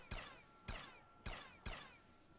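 Gunfire from a zombie-shooting video game: four sharp, evenly spaced shots ring out close and loud, each with a brief tail, and no one speaks.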